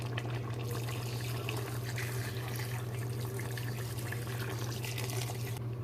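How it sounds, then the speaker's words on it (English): Water is poured into a cooking pot of brown stew turkey drumsticks to cook the leftover seasoning. It makes a quiet, steady trickling splash under a low kitchen hum, with no talking. "now we're going to add some water so that the rest of the seasoning can cook"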